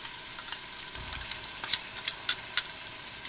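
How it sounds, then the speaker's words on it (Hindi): Garlic, ginger and bay leaves frying in hot oil, a bright steady sizzle with a few sharp crackles and pops close by. "और उसे थोड़ी देर के लिए फ्राई करते हैं"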